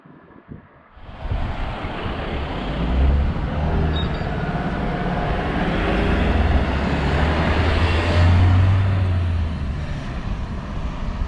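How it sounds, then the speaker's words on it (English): A single car approaches and passes on a very quiet rural road along the Irish Atlantic coast, a steady rising and fading rush over constant wind buffeting, loud and close, with no talk. "This is a very quiet road, so we'll just wait for this car to come past."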